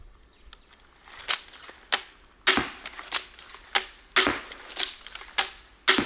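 A crossbow fires a rapid series of sharp, snapping shots, roughly ten loud cracks spaced unevenly over a few seconds, each with a quick bright release and brief ring, with no talking.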